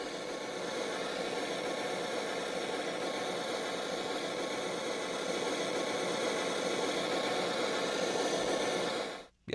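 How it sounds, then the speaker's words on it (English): Steady pink noise test signal played through car speakers during a tuning session, a dense even hiss that holds constant for several seconds before cutting off abruptly. "let's do pink noise"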